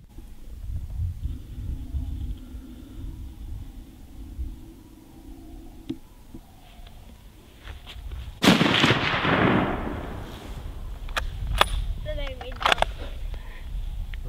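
Sharp rifle shots ring out at a deer hunting season opener in Wisconsin, with a loud crack and rolling echo midway and fainter distant reports around it, while people talk quietly outdoors.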